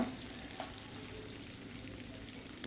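Mutton pieces frying to a reddish brown in a pan, with a faint, even sizzle and soft crackle that keeps on without a break and no one speaking.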